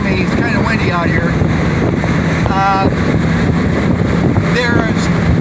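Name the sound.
wind blowing on the microphone outdoors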